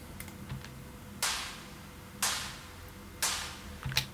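A synthesized noise tail for an EDM snare hisses in three evenly spaced bursts, each a bright wash of noise that decays over about half a second, with faint ticks between.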